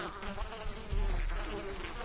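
Video game bees buzz in a dense, steady drone with a fluttering, insect-like hum that stays close and loud for the whole moment, no voices over it.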